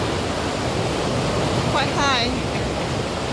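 Continuous broadband rush of river water pouring through a lock sluice on the River Cam in Cambridge, steady and loud, with someone briefly talking over it.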